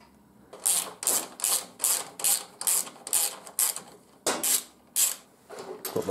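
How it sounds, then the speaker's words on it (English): A ratchet wrench turns out a tank bolt on a Triumph Thruxton R motorcycle, with about a dozen crisp, rhythmic ratcheting strokes close up, a brief pause, then a few more strokes. "we're going to take this bolt out"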